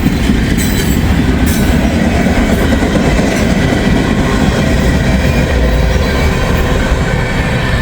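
A freight train rumbles past loudly and continuously, with heavy rolling noise, rhythmic wheel clatter and a faint squeal of wheels on rails.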